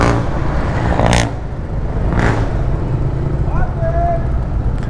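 Road traffic near Valenzuela in the Philippines, heard from inside a moving vehicle as a loud, steady engine and road drone, with a couple of brief whooshes of passing vehicles and a short squeal near the end.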